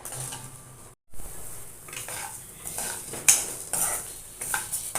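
A spoon scrapes and stirs coriander and mint frying in a pan over a low flame, with repeated close metallic clinks and a soft sizzle underneath.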